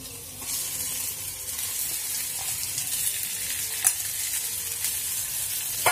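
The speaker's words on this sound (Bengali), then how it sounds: "একটু ফ্রাই হয়ে গেলে দেবো আলু মাখাটার মধ্যে।" A paste of ginger, onion and chili sizzles as it fries in a pan, with a steady hiss and occasional stirring scrapes, close and continuous with no talk.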